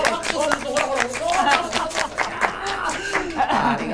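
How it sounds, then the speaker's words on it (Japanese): An audience claps at a live balloon art performance, with uneven bursts of hand claps mixed with crowd voices and a performer talking over them throughout. "拍手、拍手、拍手、拍手、拍手"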